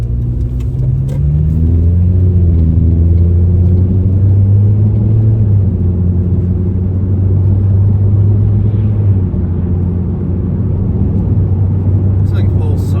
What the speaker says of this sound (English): let's go for a ride in the car.